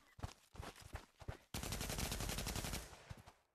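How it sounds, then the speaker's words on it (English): Gunfire in the VR shooter Pavlov opens with several separate sharp shots and short bursts, then breaks into a long, loud stretch of sustained automatic fire. "Whoever's shooting at me"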